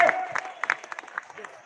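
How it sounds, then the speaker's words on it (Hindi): At a rally, scattered claps from an audience rise briefly after a voice at the start, with sparse uneven hand claps trailing off over a second or two. "जोरदार ताली बजाओ भाई"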